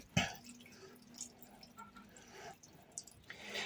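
Small splashes and drips of water poured into a pot of simmering gravy with bay leaf, a few brief wet bursts close by over quiet kitchen background, no talking.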